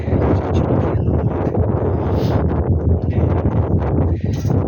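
Strong wind buffets the microphone in a constant roaring rush, loud and unbroken throughout.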